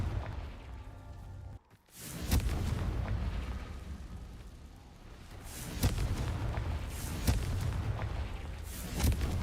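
Confringo explosion spell in the video game Hogwarts Legacy, a series of deep booming blasts with rumbling low-end tails over constant background game noise, with one short dropout before the bursts resume.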